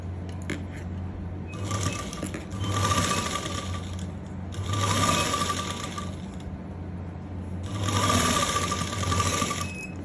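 Sewing machine stitching elastic lace, running in three loud bursts of rapid mechanical whirring separated by brief pauses, close and alone.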